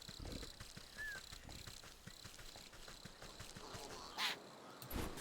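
A bird in a video game gives quiet quacking calls against a steady game soundtrack, with a couple of brief louder squawks toward the end.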